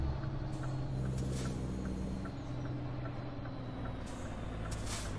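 Heavy trucks in American Truck Simulator rumble in dense traffic while air brakes hiss in short repeated bursts over a constant loud engine drone.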